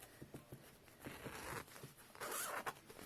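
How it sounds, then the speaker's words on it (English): A zipper on a mermaid tail costume is pulled up in several short, uneven rasping strokes, close and fairly quiet, mixed with soft fabric rustling and handling. "The zip works really well. Let's see if I can do this, like where the zip starts here, so if I just pull it up."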